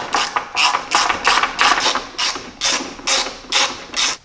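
A ratchet wrench tightens the battery bracket on a Jeep with a 4.0 engine, giving about ten crisp, loud, close clicking bursts in a steady back-and-forth rhythm, with no talk.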